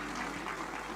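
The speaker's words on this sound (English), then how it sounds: "Can we all stand up and give a big, big, big round of applause" Audience at a conference event in Vadodara giving a standing round of applause, a dense, steady wash of clapping throughout.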